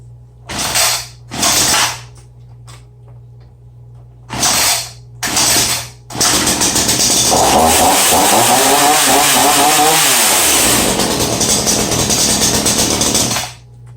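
A new Ryobi 2-cycle 37cc chainsaw with a 16-inch bar starts after a few short pulls, then runs loud and steady at close range, its pitch dipping and climbing as the throttle is worked.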